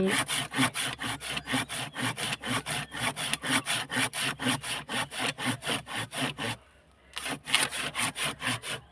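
Bamboo sawn by hand in preparation for weaving, with steady rasping back-and-forth strokes in a quick regular rhythm, close and clear, briefly pausing near the end before resuming, with no talking.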